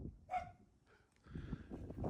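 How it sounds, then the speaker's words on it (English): A dog lets out a single sharp bark, then a softer whimpering yip follows. Both come from a short way off outdoors, over low background rumble. "my wife must let the dogs out, and she don't realize I'm out here, so she's barking at me"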